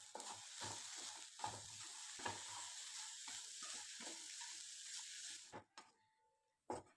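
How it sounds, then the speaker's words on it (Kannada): Broccoli cooked in ghee with a pinch of turmeric and salt is stirred in a pot, a spoon scraping and sizzling in a steady run of strokes before stopping with a couple of final clinks. "ಇವಾಗ ಚಿಟಿಕೆ ಹಳದಿ, ಟೇಸ್ಟಿಗೆ ಸಾಲ್ಟ್ ಹಾಕ್ಕೊಂಡು ಇದನ್ನು ಮಿಕ್ಸ್ ಮಾಡ್ತಾ ಇದ್ದೀನಿ"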